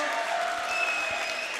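Home crowd applauding as a high school boys basketball team is introduced before its regular-season finale in a packed gym, a steady dense wash of clapping filling the whole short stretch.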